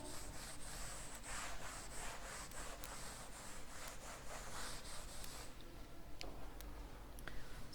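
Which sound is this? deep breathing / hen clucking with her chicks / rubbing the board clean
rubbing the board clean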